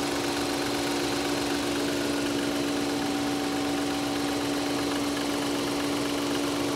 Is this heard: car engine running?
yes